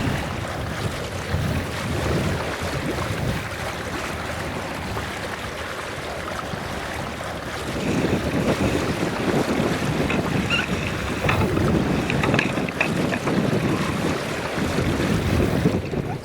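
A laden small boat is paddled across a lake into the wind, with steady wind buffeting the microphone and water washing along the hull, growing louder partway through, with no voices.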